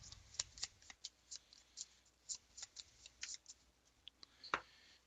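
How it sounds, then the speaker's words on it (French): Playing cards for a Pathfinder board game are shuffled close by in a series of soft, crisp riffles and flicks, irregularly spaced and fairly quiet. "On rebrasse des cartes, on rebrasse des cartes."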